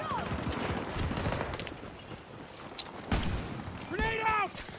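AK-24 rifle fire in the shooter game Battlefield: scattered sharp shots and short bursts crack over a busy background, with a voice speaking between them.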